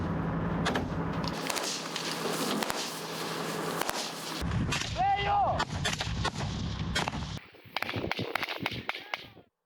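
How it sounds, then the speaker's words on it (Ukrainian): Loud blasts and sharp cracks of heavy weapons fire, including a shot from a hand-held anti-tank grenade launcher, during close-combat training at a military range, amid ongoing field noise and movement, with a brief whining tone midway. "Під час роботи доводиться застосувати ручний протитанковий гранатомет. Постріл!"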